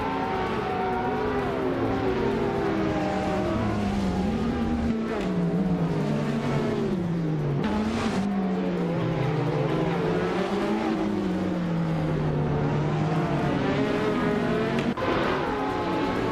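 Race cars in a racing video game roar continuously, engines rising and falling in pitch as they rev and battle closely, with brief tire and passing sounds layered over the steady drone.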